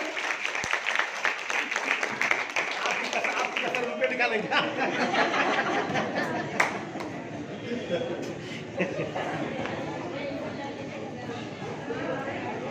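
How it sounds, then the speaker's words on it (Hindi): An audience at a women's wing gathering in Kanpur claps to welcome a speaker, dense applause that swells and then slowly thins into scattered claps and murmuring chatter. "स्वागत जरा जोरदार तालियों से कर लीजिए"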